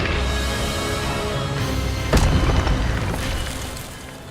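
A fire spell cast in a Harry Potter video game bursts out as a loud whooshing boom midway, swelling over a steady ambient rumble and then fading with crackling tails.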